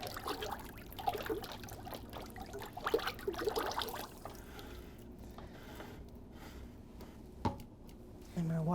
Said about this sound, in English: I'm going to stir that glaze up again because it's been a minute.